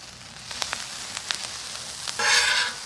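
Ham fried rice frying on a Pit Boss Deluxe griddle over medium heat, a steady soft sizzle with a few sharp scraping clicks from a spatula and a brighter hiss swelling near the end.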